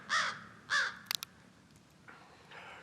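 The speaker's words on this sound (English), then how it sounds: "Crow's getting mad at me now." Two loud, harsh caws from a crow ring out close by in an outdoor hunting setting, followed by a few sharp clicks and a fainter, breathy caw-like call.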